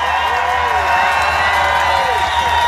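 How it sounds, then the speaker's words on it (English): A large outdoor crowd at a rally in Ottawa claps, cheers and whoops loudly and continuously, with shouting voices mixed throughout. "A big round of applause for our Hugs Over Masks representatives."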